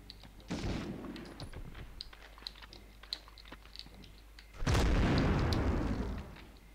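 Two heavy booming blasts in Medal of Honor, one near the start and a longer, louder one toward the end, with scattered clicks and faint game noises between them.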